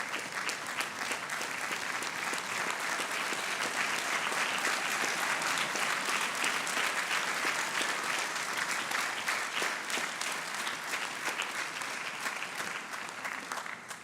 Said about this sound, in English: give those families a well-deserved round of applause